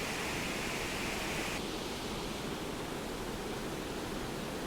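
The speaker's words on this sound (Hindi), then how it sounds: "रात का मौसम आप देख सकते हो कि हम मंदाकिनी रिवर कैसे उफान पे और पानी कलबल कर रहा होता है।" The swollen Mandakini river rushes and gushes at night on the Kedarnath route, a loud, dense, unbroken roar of water that fills the whole sound without any voices.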